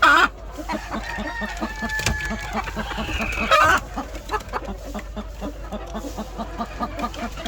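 Laying hens cluck steadily in a rhythmic pattern close by, with a rooster crowing at the start and again midway.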